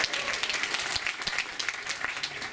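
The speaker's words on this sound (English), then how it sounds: "That clap is only for Kate and Rachel, right?" Applause from an audience at an expedition team recap and briefing aboard a Seabourn cruise ship in Antarctica, a steady dense patter of many hands clapping together, held at a constant level throughout.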